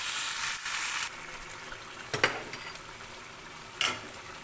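Boiled water poured over frying vegetables with pointed gourd in a pan, producing a short burst of hissing sizzle that quickly fades. A few sharp clinks of a utensil against the pan follow at intervals.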